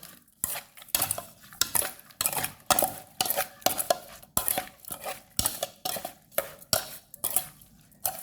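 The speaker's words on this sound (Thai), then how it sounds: "คนให้เข้ากันเลยครับ" Sliced liver salad is tossed in a bowl with a utensil, giving a dozen or so rhythmic scraping and clinking strokes, close and fairly loud, with no voices.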